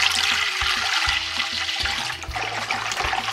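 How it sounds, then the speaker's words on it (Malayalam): Half a cup of water poured into a flour, sugar and salt mixture for porotta dough, a close, steady gushing pour with low thumps and knocks of the bowl underneath. "ഇതിനകത്തേക്ക് നമുക്കൊരു 1/2 കപ്പോളം വെള്ളം നമ്മൾ ഇതിനകത്തേക്ക് ചേർക്കുകയാണ്"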